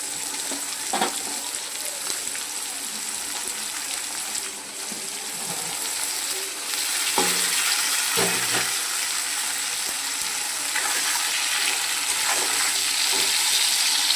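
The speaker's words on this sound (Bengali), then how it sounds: "সিমটা একটু ভাজা হবে।" Flat beans frying in a pan with potatoes and onion, a continuous sizzle with intermittent scraping stirs and a few louder clatters of the spatula, steady and close, no voices.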